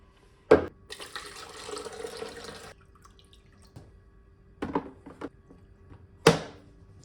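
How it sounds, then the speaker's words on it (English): A DeLonghi espresso machine runs water through its group head and steam wand, with a broad hiss and spray burst from about 1 to 2.7 seconds and short sharp drips or clicks around it, fairly close. "Run some water through the group head and steam wand"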